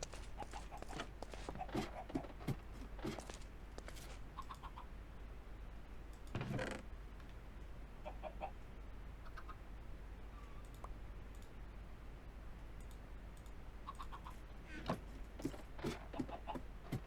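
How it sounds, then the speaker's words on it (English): Chickens cluck faintly in the blocky video game Minecraft, soft scattered clucks mixed with light clicking footstep sounds over a quiet, steady background. "Oh, chicken laid an egg."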